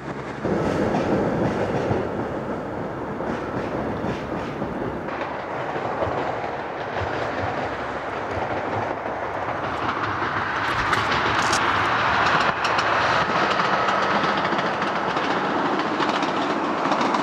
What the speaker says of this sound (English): Modern diesel units now work here.